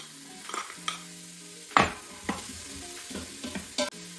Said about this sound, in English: I'll add the onions, and you can hear that sizzle